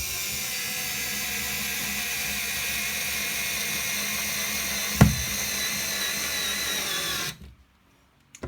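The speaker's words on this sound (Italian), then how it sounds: "Stiamo avvitando delle viti da 4 mm di spessore per 40 mm di lunghezza." An IKEA FIXA 3.6V cordless screwdriver drives a 4x40 mm screw, its steady motor whine running for about seven seconds with one brief clack midway, then cutting off abruptly into near silence.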